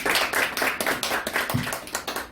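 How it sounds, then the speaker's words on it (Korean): An audience claps at a first-anniversary general meeting of a civic group, brisk overlapping handclaps sounding close and steady throughout with no voices. "인사만 해주신 세 분을 향해서 큰 박수 부탁드립니다."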